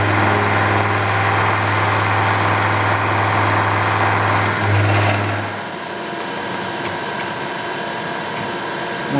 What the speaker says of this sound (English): This is 1000 RPM, and this is a 5/8 diameter end mill.